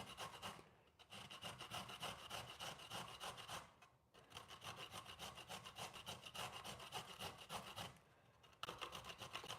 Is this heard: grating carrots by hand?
yes